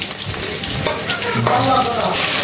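Pieces of broiler chicken frying in hot oil, a loud, close, continuous crackling sizzle that swells slightly toward the end, with faint stirring sounds.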